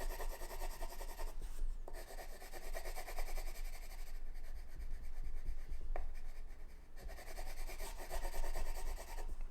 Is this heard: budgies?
no